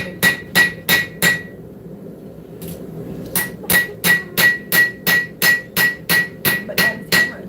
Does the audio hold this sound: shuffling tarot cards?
no